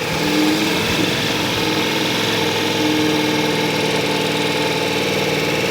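Motorcycle engine running steadily during riding practice drills, a loud continuous mid-pitched drone with slight rhythmic pulsing, no speech over it.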